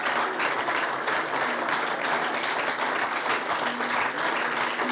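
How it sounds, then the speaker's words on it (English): Dense, sustained clapping from an audience in a hall at a peace prize ceremony in Geneva, loud and even throughout with no pauses. "there's so much clapping"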